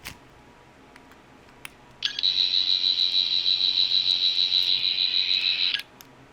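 A sharp electronic whirring tone from a Fourteenth Doctor sonic screwdriver toy starts abruptly and holds with a fast warbling pulse for a few seconds before cutting off, loud and close.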